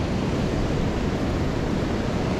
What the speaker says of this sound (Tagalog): So lumakas na naman ang alon, ang tatlaki